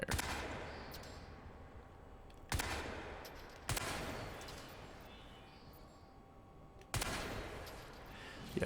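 Gunfire in Crysis 3 on PlayStation 3: four sharp bursts, each loud attack trailing into a long echoing rumble, spaced a few seconds apart.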